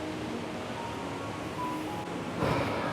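A Scottish waterfall stream pours into a pool at Routin Brig, a steady broad rushing wash of water with a slight swell near the end.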